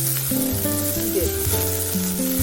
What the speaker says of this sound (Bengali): এবার ভালোভাবে নাড়িয়ে দেবেন।